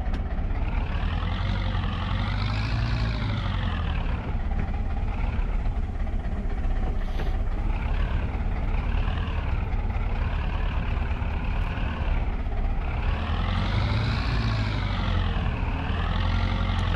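Tractor engine in Farming Simulator 22 on an old Polish farm: a loud, continuous diesel drone that rises and falls in pitch in repeated slow sweeps as the throttle changes, with no voices over it.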